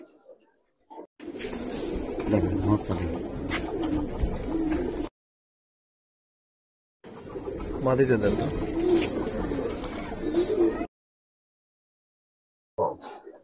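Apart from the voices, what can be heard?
Giribaz silver coloring pigeons cooing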